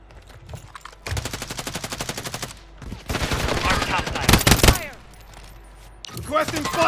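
Bursts of automatic gunfire in a Call of Duty Warzone Resurgence match: rapid rattling volleys in two long stretches separated by short lulls, loud and close, with a brief voice toward the end.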